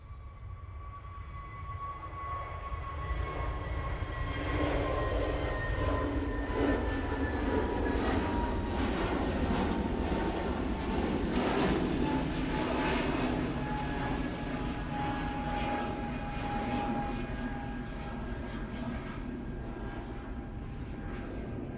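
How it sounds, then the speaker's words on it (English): A British Airways Airbus A321neo jet departs Manchester Airport, its engine roar building into a broad, sustained rumble with a whining tone that holds for about twenty seconds at moderate distance, with no talking. "British Airways now departing using their A321neo."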